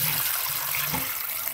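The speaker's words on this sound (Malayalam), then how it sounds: "രാത്രിക്ക് കുറച്ച് വെള്ളം ഒഴിക്കുക." Water pouring into a pot of chicken curry in a home kitchen, a steady close liquid trickle running through the short moment with no voices.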